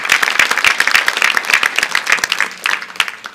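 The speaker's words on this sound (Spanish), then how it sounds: "Denle el aplauso a Jesús en alabanza." A church congregation applauding in praise during a sermon, a lively burst of close, crisp claps from a modest crowd that thins toward the end.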